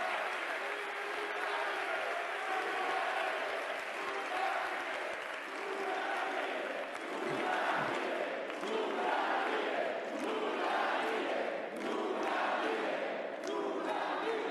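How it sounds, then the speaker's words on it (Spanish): A conference audience in Latin America applauding and cheering steadily, a dense sustained wash of clapping and crowd voices that stays even throughout. "yo pido un aplauso para Lula"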